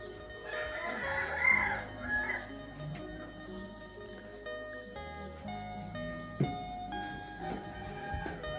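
A rooster crows near a chicken coop in a village setting in the morning, one drawn-out call rising early on, with further soft clucks and low background rumble.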